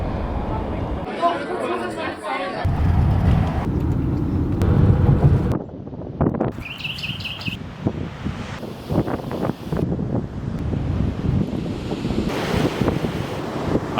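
Gusty wind buffets the microphone at a seaside jetty, a steady rough rumble with surf-like washes throughout, punctuated by brief bursts of higher hiss and a few faint voices in the background.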